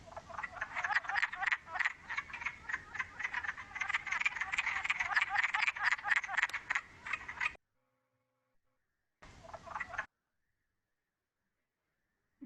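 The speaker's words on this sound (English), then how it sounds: "their call sounds a lot like a quack. So a lot of people confuse them with ducks," An eastern West Virginia frog call with a duck-like quacking quality: a rapid series of nasal croaks repeating in a dense rhythm for several seconds, a pause, then a short burst of the same calls.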